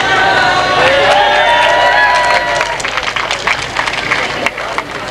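Audience applause at an Independence Day stage show in a village, a dense wash of clapping and crowd cheering mixed with whistles and shouts, starting full and thinning slightly toward the end.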